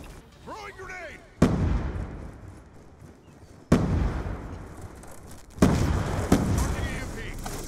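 Explosions and gunfire in Call of Duty Black Ops 2: a few heavy booms arrive seconds apart, each decaying into rumble, with a voice heard early on.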